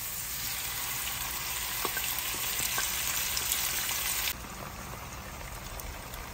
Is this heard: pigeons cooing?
no